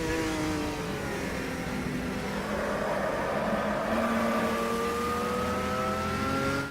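Puma GTB race car engine in the Automobilista racing game, a loud continuous engine note with pitch rising and falling as the driver lifts off the throttle and swings through an S-bend, with no talk.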